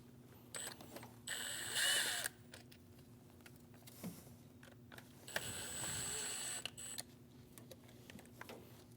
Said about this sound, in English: Using an E6 socket, remove the 2 bolts.